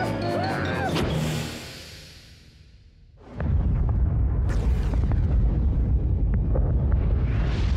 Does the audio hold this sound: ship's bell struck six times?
no